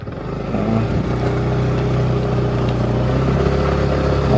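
A motorcycle starts up with its key: a brief crank, then the engine catches and settles into a loud, steady idle that runs on nearby without any talking.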